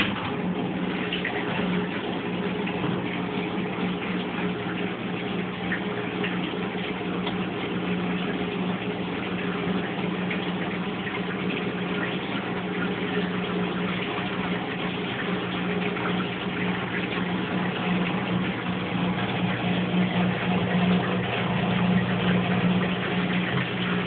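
A Brastemp Baby Mondial washing machine drains water after its rinse, a continuous pump hum with rushing, gurgling water that holds steady and fairly loud throughout, with no talking.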